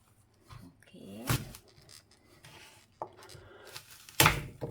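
Knife cutting through an apple, a few sharp cuts and crunches on a board, with two louder thunks standing out among softer handling noises.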